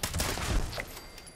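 Automatic weapon gunfire from the Fallout 76 video game, landing a critical hit: a dense, loud burst of rapid shots rattling together for about a second, then fading into a short ringing tail, with no talking.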